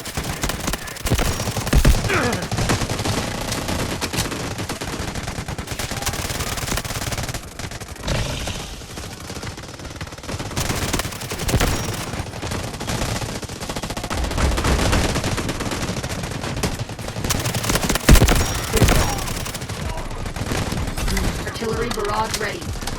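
Bizon submachine gun firing in the mobile shooter Delta Force Mobile, dense loud bursts and fusillades packed together across the whole stretch, with game voices and effects mixed in.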